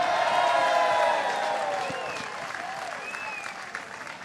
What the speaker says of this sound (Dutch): Laat ons juichen!